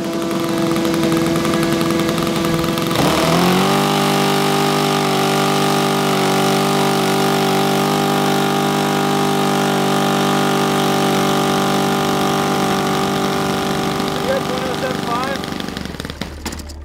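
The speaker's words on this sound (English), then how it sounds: "Once we finally got the engine started, then we started having the wonderful problems of that were curling with the actual throttle." An aircraft research engine runs continuously with a steady, droning tone after a sharp shift a few seconds in, holding loud and constant before cutting off near the end, with speech heard over it.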